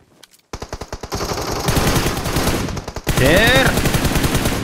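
Automatic gunfire in the mobile battle royale game BGMI rattles out in loud, rapid bursts after a short quiet start, growing denser toward the end, with a brief voice rising over the shooting.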